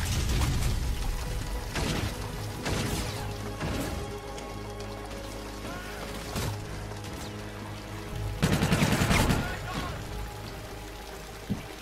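Gunfire in the Call of Duty Infinite Warfare video game: sharp bursts of shots land in scattered clusters, the loudest near the end, over a steady game soundtrack while a player talks.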